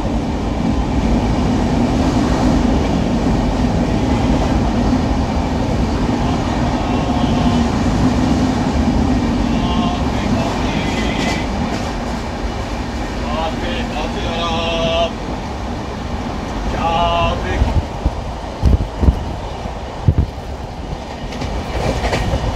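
The Padatik Express passes Chandanpur station with a continuous heavy rumble and rolling clatter, joined later by rhythmic wheel clicks over rail joints, loud and close as heard on board.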